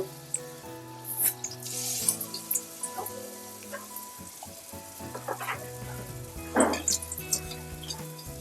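Appam batter frying in hot oil over a medium flame, a continuous bubbling sizzle with crackles and occasional bursts as the batter puffs, plus faint background clatter.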